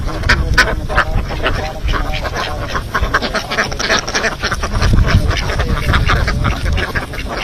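Native Kuttanad Chara and Chemballi ducks quack continuously in a paddy field at Chennithala, forming a dense, loud, overlapping chorus of nearby calls.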